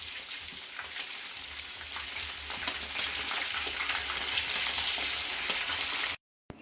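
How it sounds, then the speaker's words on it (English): Escovitch fish frying in oil in a pot, a steady, dense crackling sizzle that carries on without a break for about six seconds and then cuts off abruptly at the end. "Now I'm going to go ahead and turn these fish so both sides can be fried."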